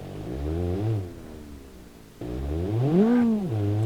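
Car drifting in the BeamNG.drive video game: a close, loud engine whines up and down through its revs in two bursts, pitch rising and falling as the car slides, with a brief quieter lull between.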